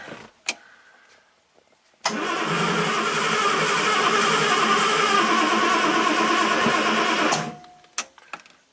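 The engine of a 1967 Triumph GT6, parked since 1999, cranks after a brief click and a quiet pause, then roars into a loud, steady run at full throttle for about five seconds before cutting off, followed by a few clicks and knocks.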